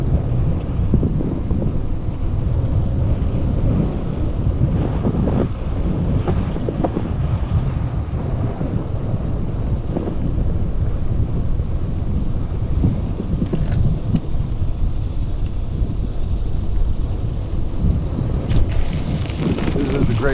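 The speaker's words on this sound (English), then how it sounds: "A little windy out here." Wind buffets the microphone during a mountain bike ride on island forest trails, a continuous low roaring rumble with gusty surges throughout, loud and close.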